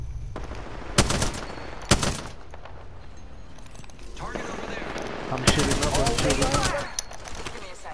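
Gunfire from the video game Apex Legends comes in sharp automatic bursts: two short ones early, then a longer rapid burst later, with a player talking in between.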